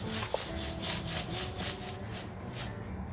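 Crunchy fried Dhaba-style garlic chickpeas tossed with chaat masala, giving a dry, rhythmic rustling and scraping as they are stirred, close and steady throughout.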